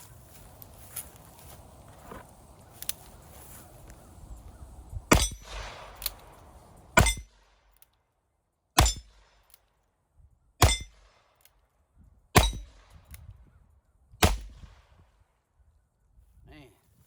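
Ruger Old Model Vaquero case-hardened revolver in .45 Colt fires a slow series of about seven loud, sharp shots outdoors, each crack ringing out with a short decay, after some quieter handling noise at the start.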